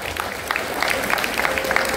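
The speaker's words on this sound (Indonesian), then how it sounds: "silakan tepuk tangan dulu semuanya" A crowd claps together in a steady, dense patter of applause with a few sharper claps standing out, and no voices.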